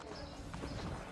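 A horse in Assassin's Creed: Brotherhood, soft hoof clip-clops on a city street, faint and close, within a brief stretch of crowd murmur.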